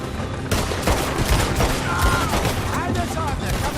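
Dense gunfire fills a Red Dead Redemption 2 shootout, with rapid overlapping shots crackling steadily throughout. A voice can be heard in the mix.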